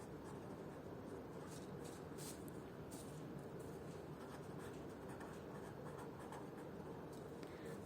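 Steady hand-writing scratch on a board or paper during a Class 6 maths lesson, faint and continuous with light stroke bursts throughout, no voice heard.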